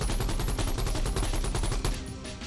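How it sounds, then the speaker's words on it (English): An AK-47 fires on full auto in the BONELAB VR game: a fast, steady stream of loud, close shots for about two seconds before tailing off. "The AK-47 is the weapon of the people."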